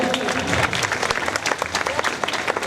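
A crowd at a Shrimad Bhagavat Katha gathering in Kamthi village claps loudly to greet the preacher, producing dense, continuous close applause.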